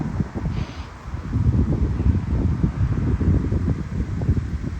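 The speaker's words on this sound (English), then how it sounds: "Damp and very cold days with wind." Steady, blustery wind outdoors on a damp, very cold day in rural Finland, a continuous low rumble with gusty buffeting against the microphone and no voices.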